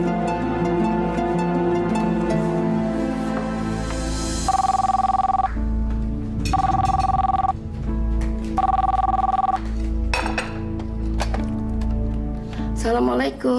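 A telephone rings in a drama scene, three or four regular electronic ring bursts about a second long with gaps between, heard over background music and sound effects.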